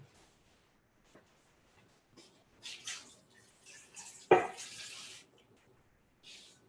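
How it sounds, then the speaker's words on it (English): Water poured into a cooking pot, a brief rushing splash standing out around the middle, with faint kitchen clatter and quiet stretches before and after. "I'm just going to put just about a cup of water in there."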